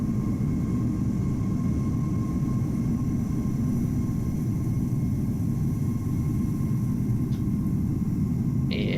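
An Airbus A320 airliner at Amsterdam Schiphol in Microsoft Flight Simulator gives off a steady, loud, broadband jet engine rumble that holds unchanged throughout, in cloudy weather.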